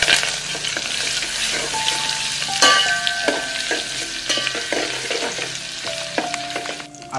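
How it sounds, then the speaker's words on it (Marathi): A spoonful of paste and five or six curry leaves stirred in hot oil in a pan for a breakfast dish, with a steady close sizzle, scraping spoon strokes and a few sharp clinks of utensil against the pan. "आणि एकदा हे छान ढवळून घेऊया."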